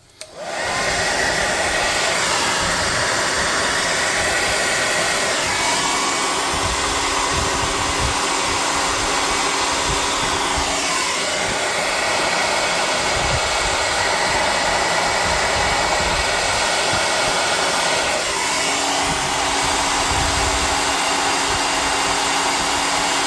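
A hair dryer blows on a painted tabletop smelter model, a loud continuous whooshing whine held steady for the whole stretch, with slight rises and dips as it moves, and no voices.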